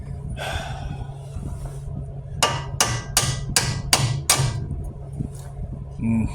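A hammer taps a part on the front axle of a 2007 Hyundai Santa Fe AWD, striking five sharp metallic blows in an even rhythm, close by over a low background hum, with some breathing before them.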